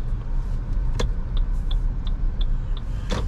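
A Toyota Hyryder AWD rolls slowly in gear with the foot off the throttle, a low steady engine and road hum inside the cabin, with faint regular ticking clicks and a couple of sharper knocks.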